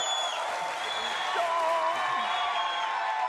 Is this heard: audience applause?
yes